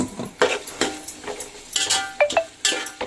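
Ginger garlic paste sautéed with onions in a pan for chicken biryani: irregular clinks and scrapes of a spoon against the vessel over a soft frying hiss.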